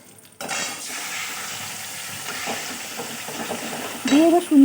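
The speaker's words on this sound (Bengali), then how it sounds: "কড়াইতে বেশ সুন্দর করে নিয়ে নিতে হবে, ফুল স্টিম দিয়ে বেশ ভালো করে কষিয়ে নিতে হবে" A spiced chilli mixture is stir-fried in a wok over high heat, a steady scraping stir and sizzle running throughout at close range, with a brief voice near the end.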